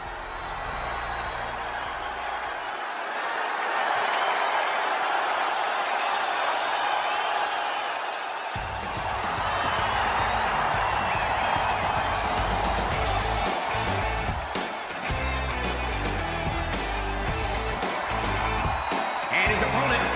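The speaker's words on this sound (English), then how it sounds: "The crowd here tonight sure sounds primed for it. Getting pretty heavy on the decibels." A packed wrestling arena crowd at a Salt Lake City show roars continuously and loudly, a broad sustained wall of cheering that swells partway through with scattered sharper shouts and bangs.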